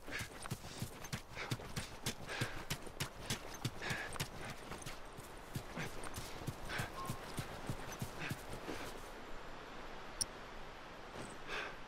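Horse hooves clip-clop in a steady, moderately close rhythm across the ground in the post-apocalyptic game The Last of Us, with no voices over them.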